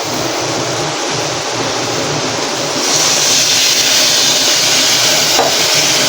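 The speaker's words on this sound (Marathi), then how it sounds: "थोडंसं पाणी टाकूया यात" Hot water hits a pan of sizzling potato and pea curry, a loud, close rush of hiss and bubbling steam that swells and stays steady.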